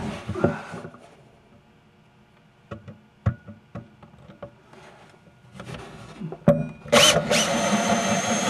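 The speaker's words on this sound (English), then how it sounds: "now we're getting ready to drill. I'm going to use a 3-inch hole saw." A power drill fitted with a 3-inch hole saw starts, stops and runs in short bursts, with clicks and knocks between, then grinds harder into wood near the end.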